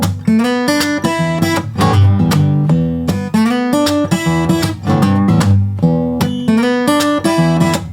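An electric guitar plays a bluesy riff of quick repeated notes with small pull-off flourishes, loud and steady, with no talking.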